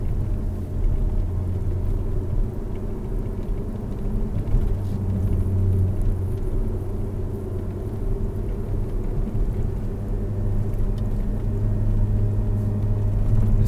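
An Alfa Romeo 159 drives a gentle winding road through wooded hills, heard from inside as a steady low engine and road rumble with no talking.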